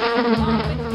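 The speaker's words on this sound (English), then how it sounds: "Fly." A fly buzz from a children's insect toy sounds as a steady, close, loud droning hum over a brief rhythmic backing tune.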